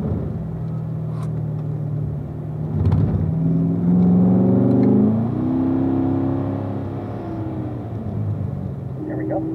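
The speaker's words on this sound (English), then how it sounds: "Braking, downshift to 3rd." A Corvette at a driving school on track brakes and downshifts to third gear, its engine rumble rising in a blip of revs and then settling, loud and close throughout.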